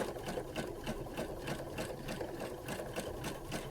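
A sewing machine stitches over a quilted fabric block, outlining the Bohemian Spring block 1 pattern, with a close, steady, rapid rhythmic chatter of the needle running throughout.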